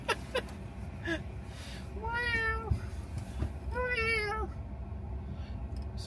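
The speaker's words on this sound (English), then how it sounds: "Start blasting cat sounds." Cat meows played back through a speaker, two drawn-out mewing calls with rising and falling pitch, fairly loud over a steady background hum.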